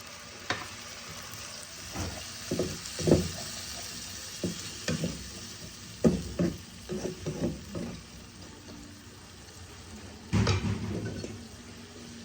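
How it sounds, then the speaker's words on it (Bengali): A spice paste for Bengali fish curry fries with a little water in a pan, its low steady sizzle broken by a series of stirring scrapes and spatters spread across the whole stretch. "এবার আমি অল্প জল দিয়ে মশলাটাকে কষিয়ে নেব।"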